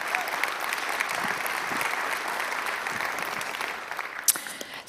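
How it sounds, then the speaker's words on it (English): Audience applause during a conservative summit morning session, a steady, moderately distant roar of many hands clapping that holds evenly and begins to thin out in the final second or two. "let's give them a round of applause"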